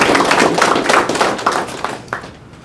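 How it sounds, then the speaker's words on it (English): Applause from a school board meeting audience for an award recipient, a short burst of scattered hand claps with taps that thins out and fades within a few seconds. "So why don't we give a round of applause for Olivia Ramsey."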